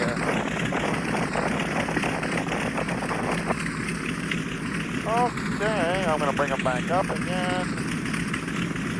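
Twin piston radial engines of a B-25 Mitchell warbird idle steadily at about 1,000 RPM, a loud continuous rumble throughout, with someone talking over it in the cockpit.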